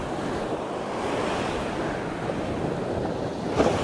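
Sea waves breaking on the shore at Finisterre, a steady wash of surf with wind buffeting the microphone, continuous and fairly close with a slightly stronger surge near the end.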